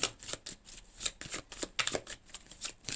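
Tarot cards shuffled and drawn by hand at close range, a quick run of crisp riffling and slapping bursts in steady rhythm, with no talking.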